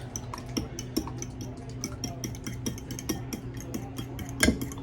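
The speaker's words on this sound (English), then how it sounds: "I'm just going to whisk these up with a fork" A fork whisks eggs in a bowl for homemade mozzarella sticks, giving quiet, rapid, rhythmic clinks and taps against the dish, close by and steady throughout with no talking.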